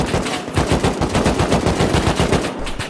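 AK rifle fired in the survival game Rust, a sustained fully automatic burst of rapid, evenly spaced loud shots lasting the whole stretch with no talking.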